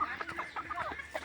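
Chickens clucking at feeding time on a farm in the evening, a run of short, close, busy clucks and calls with no talk over them.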